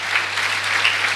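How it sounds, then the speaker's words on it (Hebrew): Audience applause for a rabbi at a Jewish religious lecture, a dense, steady clapping from a crowd filling the whole moment without voices. "איפה מחיאות הכפיים לרב"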